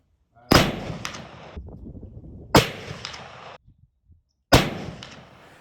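Three loud black powder rifle shots fired with 63 grains of Pyrodex RS, each a sharp blast followed by a rolling echo, spaced about two seconds apart.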